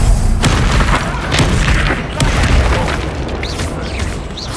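Heavy booming spell blasts from Bombarda and Confringo in Hogwarts Legacy, a dense rumbling roar of layered explosions and bursts that fills the whole stretch, loud and close.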